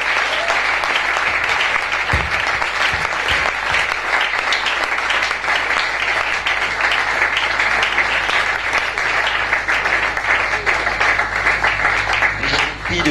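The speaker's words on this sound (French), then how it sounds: "est-ce qu'on peut acclamer le Seigneur?" A church congregation in Kinshasa applauds loudly and steadily throughout, a dense, sustained wash of clapping with no letup.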